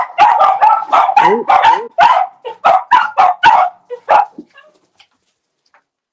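Several dogs bark loudly and close by in a rapid, irregular burst of barks and yips, with a few whimpers and a brief spoken exclamation, before fading out into near silence.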